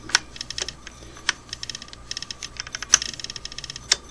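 A Singer Model 401 sewing machine runs with dry hand wheel and motor worm gears, giving a steady close ticking rattle with sharper clicks scattered through, alone without speech.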